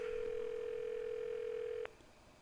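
In the Iron Man VR video game, a phone call to Pepper produces a steady electronic ringing tone that holds for nearly two seconds and then cuts off abruptly, leaving quiet background.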